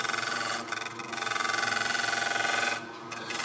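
A lathe tool cuts a wooden wall plaque, giving a close, continuous buzzing whir with a rapid rhythmic chatter as it passes over a knot, dipping briefly near the end.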